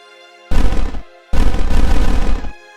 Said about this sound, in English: I get that explosion sound